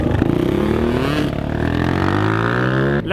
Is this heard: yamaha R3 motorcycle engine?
yes